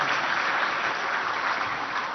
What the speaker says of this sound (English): Can we have a round of applause for these two projects